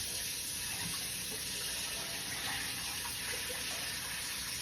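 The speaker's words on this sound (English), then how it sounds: "I'm going to go ahead on and drain this water off." Water rushes steadily out of a pot of soaking cabbage into a kitchen sink, a constant, loud gushing drain with no pauses or talking.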